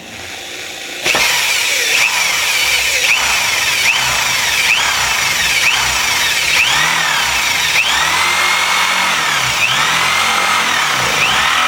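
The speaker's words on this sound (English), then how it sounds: "So we're just going to drill a hole." A power drill bores a hole in the metal casing of an Xbox One console, starting abruptly into a loud, sustained whine whose pitch dips and rises repeatedly as the bit bites, close up with no speech.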